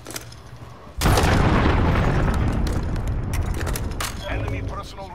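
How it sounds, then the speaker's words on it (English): A loud, sudden explosion from an enemy cruise missile strike in a video game hits after a second of quieter game sound, then rolls on as a sustained rumbling roar with scattered crackle, while a voice talks faintly underneath. "Enemy cruise missile incoming."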